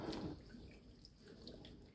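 Cool tap water runs steadily into a container of fresh green beans being filled for washing, a soft continuous splashing close by with no talk.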